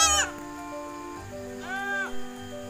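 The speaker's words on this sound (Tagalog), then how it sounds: "kahit umuulan ay pinapastol pa rin namin yung aming kambing" Goats bleat while grazing in the rain: a loud, close, wavering bleat opens, then a second drawn-out call follows about two seconds later over a steady background hum.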